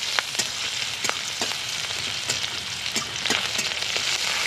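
Chopped ginger, whole black peppercorns and green chillies sizzle in hot oil, with frequent spitting crackles and pops over a steady frying hiss, stirred now and then, with no talking.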